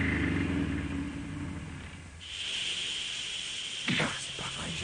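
A car engine in an animated action scene strains with a steady rumble, then its tone shifts abruptly midway as the engine seizes, followed by a few sharp sweeping mechanical squeals near the end.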